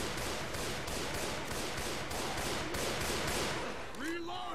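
Rapid bursts of gunfire in the zombie shooter Left 4 Dead 2, loud and continuous automatic shots layered over game noise, with a brief voice-like sound near the end.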